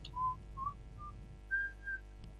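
Whistling used as input for sonification, five short clear whistled notes, the later two pitched higher, with gaps between them over a faint low hum.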